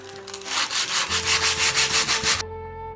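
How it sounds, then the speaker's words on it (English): Sandpaper rubbed by hand over a wooden Santa head Christmas decoration to give it a weathered look, a steady run of rhythmic scrubbing strokes close up, then stopping abruptly near the end. "Just a random pattern for sanding."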